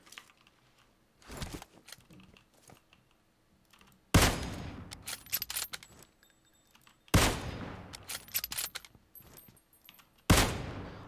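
Gunfire in the PUBG Mobile video game: several loud sharp bursts of rapid shots at roughly three-second intervals, each trailing off into clattering echoes, with quieter scattered pops and clicks between them.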